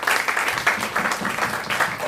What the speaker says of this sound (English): Round of applause for Kemi, everybody.